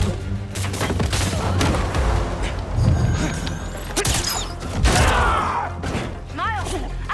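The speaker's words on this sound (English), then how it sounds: "Taking the shot!" Gunfire in the Marvel's Spider-Man 2 video game arrives as a loud burst of shots and thuds over a dense layer of game effects and music, and a character speaks during it.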